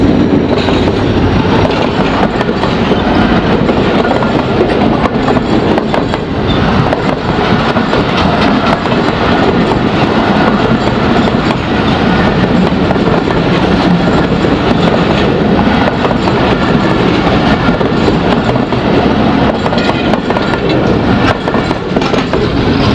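A train rumbles past in the rain, its wagons clattering loudly and steadily over the rails for the whole stretch, close and unbroken, with no voices.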